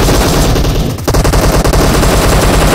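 Loud, rapid automatic gunfire from the PUBG Mobile game, dense bursts of shots with a brief break near the middle before the firing resumes, and no talk.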